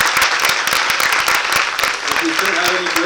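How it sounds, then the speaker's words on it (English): A full audience applauds after a panel talk on Nordic leadership, with dense, steady clapping throughout and a voice starting to speak near the end. "Please give a round of applause."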